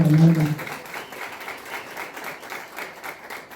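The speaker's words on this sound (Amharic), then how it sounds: "ለዚህም ጭብጨባ ያስፈልጋል" An audience at a playwrights' stage event breaks into sustained applause, a dense even clatter of many hands heard from within the hall, with a short low voice sound at the start.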